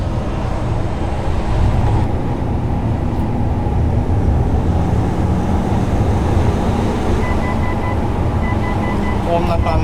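A Mitsubishi Delica D:5 driving on an expressway with the window open, giving a continuous loud, broadband roar of turbo intake, wind and road noise, steady throughout with no clear individual events.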